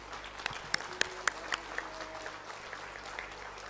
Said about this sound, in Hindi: आई वुड रिक्वेस्ट सब खड़े होकर एक बार जोरदार तालियों से स्वामी जी का स्वागत कीजिए